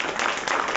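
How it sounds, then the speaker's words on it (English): Applause from the audience for the cast at a library Black History program, a brief burst of dense, steady clapping heard up close, with no voices over it. "Let's give our cast a round of applause."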